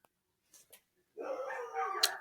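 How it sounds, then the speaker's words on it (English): A dog barks in a single short burst near the end, preceded by a few faint soft sounds, fairly close and moderately loud. "Do you hear that barking?"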